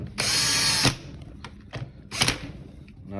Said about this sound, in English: I don't hammer on it with the impact too much